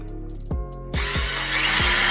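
A power drill spins up in short bursts and then drills continuously, bored into a mount for a Hummingbird side imaging transducer, loud and close, its whine changing pitch under load with no speech.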